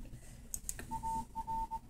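Phone dialing in a video game, a couple of bright clicks followed by a short series of steady electronic dial tones, quiet and uneven in length, with no talk.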